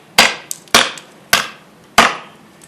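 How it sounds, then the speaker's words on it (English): Americana Sirupate kukri chopping wood, four loud, sharp thunks about half a second apart, each ringing briefly, with a fainter tap between the first two. "Again, nice smooth area where she's chopping. She's getting through the wood very easily"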